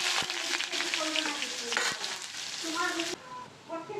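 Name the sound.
frying garlic and tomato with salt in a pan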